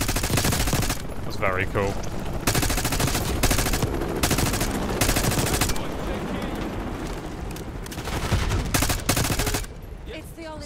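Rapid automatic gunfire bursts from a Black Ops 6 campaign firefight while sliding downhill, loud and sustained across the clip, with brief speech over the shooting.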